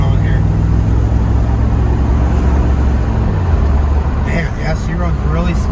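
A 1991 Pontiac Firebird Formula's 5.0 V8 idles and runs with a steady, smooth low rumble close by, and a voice talks briefly over it near the end.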